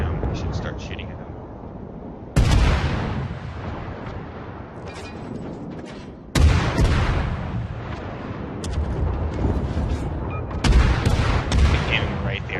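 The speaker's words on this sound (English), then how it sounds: "We should start shooting at him." Warship guns fire in the World of Warships game, the Kolberg cruiser's turrets loosing three heavy booming salvos a few seconds apart, each a sharp loud blast trailing into a long rumbling roar of battle noise.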